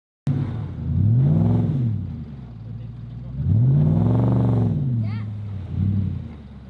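A Nissan Patrol 4x4 engine labours up a beach sand dune, rising and falling in three surging revs over a steady rumble, close and loud, with people talking over it.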